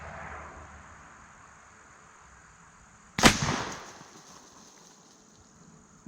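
A single sharp shot from an Airforce Texan .457 CF big-bore air rifle striking a pumpkin outdoors, one loud crack with a short decaying tail over quiet background and faint insect-like hiss.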